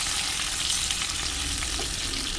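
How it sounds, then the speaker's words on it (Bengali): Koi fish frying in hot oil give a bright, even hiss of sizzling, close and unbroken, with faint crackles and no voices. "এখন মাছগুলো উল্টিয়ে দিচ্ছি।"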